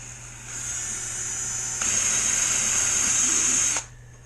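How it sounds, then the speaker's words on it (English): Power drill boring pilot holes in wood on the transom of an RC gas boat kit, a steady high whine that rises in pitch and load partway through and then cuts off, close and with no voices. "we're going to drill our pilot holes"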